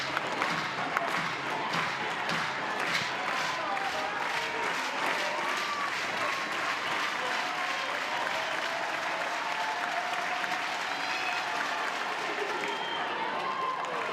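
Crowd at Love's Field during an NCAA softball super regional game between Oklahoma and Alabama, a sustained wash of cheering and applause that stays dense and loud throughout.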